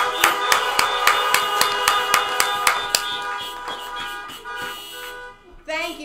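Car horns sound in overlapping sustained tones alongside a steady, rhythmic clapping during a morning worship service, the honking and claps continuing together for several seconds before tapering off.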